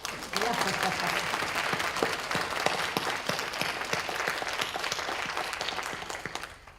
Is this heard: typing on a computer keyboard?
no